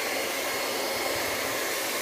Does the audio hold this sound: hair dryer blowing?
yes